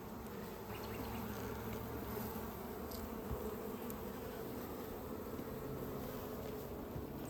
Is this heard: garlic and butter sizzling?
no